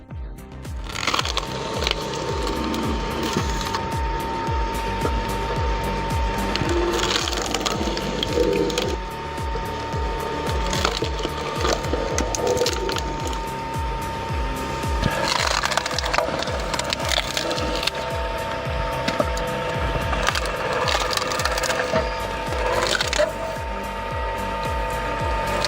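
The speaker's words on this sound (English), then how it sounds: "A scarred 7-kilowatt splitter may not look pretty, but it demolishes twisted birch roots with ease." A scarred 7-kilowatt firewood splitter tears through twisted birch roots with loud, continuous mechanical grinding, punctuated by sharp cracks and splintering wood throughout.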